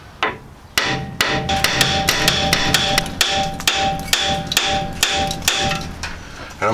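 A not-very-heavy hammer strikes a seized steering knuckle spindle on an XJ front end. About a dozen sharp metallic blows ring out close by in a steady rhythm, with no talking.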